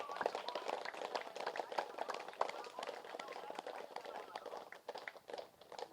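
An audience applauding at a pyramid opening ceremony in Tirupati: dense, steady clapping from many hands, fairly faint and distant, continuing without a break throughout.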